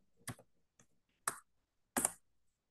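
Keys on a computer keyboard tap in four crisp, isolated clicks over about two seconds, the last one heaviest like a firm press of the enter key, close and alone in a quiet room.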